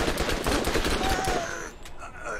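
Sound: tap-firing a gun in the video game Borderlands

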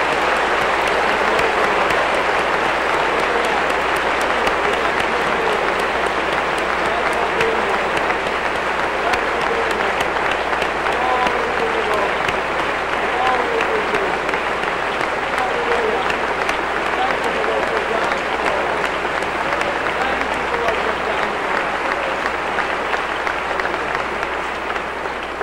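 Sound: audience applause

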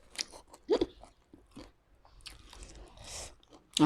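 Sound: eating crunchy som tam papaya salad

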